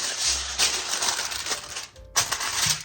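Crinkling and rustling of aluminium foil being handled and pressed into a pan in a kitchen, close and crisp with a few soft thumps.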